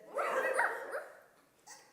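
A person imitates a dog during a storytelling session, giving a short bark-like yip followed by a softer trailing whimper, close and fairly clear against a quiet background.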